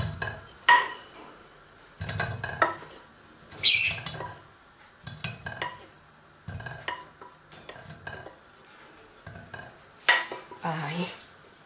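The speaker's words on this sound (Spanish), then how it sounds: "donde voy a añadir, donde voy a poner el choco" Cuttlefish sizzles in a pan while a utensil stirs and scrapes it, irregular bursts of clatter and scraping against the pot separated by quieter frying moments.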